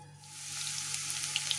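Garlic tempering in half a cup of hot oil for a sarson ka saag and palak dish gives a brief, steady, bright sizzling hiss that swells after a quiet start.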